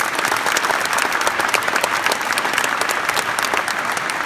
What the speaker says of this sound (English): a big round of applause for ServiceMaster